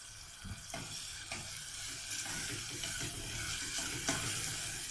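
Pigeon stuffing is stirred in a frying pot, giving a steady hot sizzle broken by regular scraping strokes of the spoon, close and fairly loud, with no talking.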